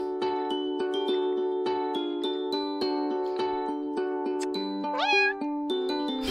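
Cartoon cat meows from a cat-dating video game, several short tonal mews over a steady chiming musical backing, with one rising mew near the end.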